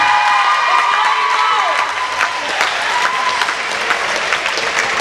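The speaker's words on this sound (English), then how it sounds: "Give them a round of applause." Crowd at a school volleyball tournament semifinal claps and cheers for the teams, loud and sustained, with shouts, whistles and children's voices mixed into the dense applause.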